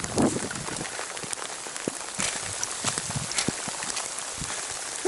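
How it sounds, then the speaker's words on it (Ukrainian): Heavy rain on a mountain via ferrata in Austria, hissing steadily on surfaces nearby, with scattered drips and patters spiking through the continuous wash; no speech. "Хух, який злива йде."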